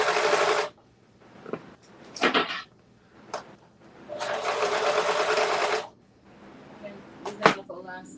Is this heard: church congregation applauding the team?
no